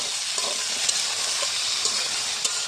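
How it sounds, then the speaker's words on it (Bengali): Diced potatoes frying with onion in a pan as dal simmers nearby: a steady, close hiss of sizzling oil with faint stirring clicks and scrapes, no voices. "ডাল আলুটা একটু বেজে নেব পেঁয়াজের সাথে"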